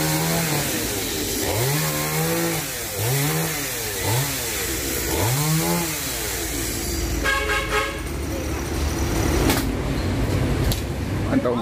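A chainsaw cuts an Indian almond tree standing close to a house roof, its engine rising and falling in several revving pulls, then settling into a rougher, steadier whine; a voice sounds nearby.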